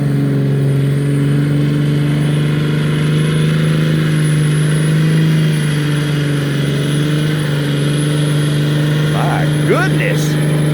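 Cummins 5.9 diesel pickup truck with a 5-inch straight pipe exhaust and 24-inch tail tip, revving hard with a steady loud low drone that holds throughout, while people talk excitedly over it.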